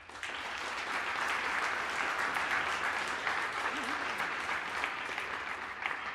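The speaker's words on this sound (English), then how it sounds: "I would just like a warm round of applause for all three of our panelists." Steady, dense applause from a large audience, continuous and fairly loud throughout without pause.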